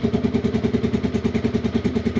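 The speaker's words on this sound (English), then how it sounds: "Fires up. It runs fairly smooth." A motorcycle engine with a cold carburetor runs at a steady idle close by, pulsing in a rapid, even beat with a mechanical clatter and no voices.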